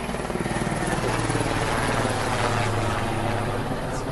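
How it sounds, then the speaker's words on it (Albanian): Helicopter flying over a fire near a cemetery in Hoshtimë, its rotor thudding in a fast steady beat under a loud continuous engine roar that stays close throughout. "Siç edhe zhuma helikopterit"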